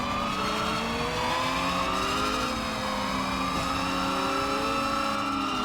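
A six-wheeled race car in the game Screw Drivers, its engine droning and revving continuously at high pitch, with gear changes rising and falling loudly throughout.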